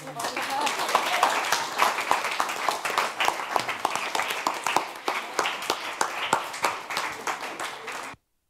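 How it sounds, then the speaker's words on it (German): Audience applause at the closing presentation of the Jugend hackt Rhein-Neckar 2023 youth hackathon, a dense, steady burst of clapping that holds at a high level for about eight seconds before it stops abruptly. "Wir danken unseren Mentees und bitten um einen großen Applaus."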